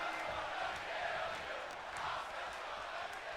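A virtual arena crowd chants in the WWE 2K24 wrestling game during a Queen of the Ring match, a low, steady roar of massed voices held at a distance under the game's sound.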